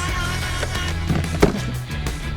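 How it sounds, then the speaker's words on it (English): A Ryobi 36V HP brushless 40mm crushing shredder chewing through garden material, with a loud steady motor drone and irregular cracks and snaps as branches are crushed, close and without talk. "It shreds material up to 40 mils in diameter."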